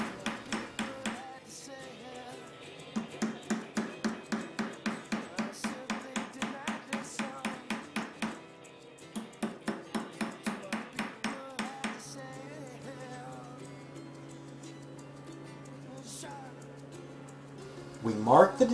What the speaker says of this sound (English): This we do in the most brutish manner by simply striking it repeatedly with a mallet against a